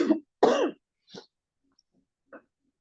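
A person coughs and clears their throat in a few short, close bursts, separated by silence.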